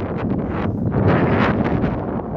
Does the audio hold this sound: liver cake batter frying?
no